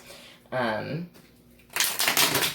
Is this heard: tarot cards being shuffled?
yes